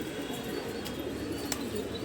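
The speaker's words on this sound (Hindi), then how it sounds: "दोस्तों फाइनली कबूतर आ चुका है" A pigeon coos softly on a rooftop, low and close amid steady outdoor background noise, with a couple of brief higher chirps breaking through.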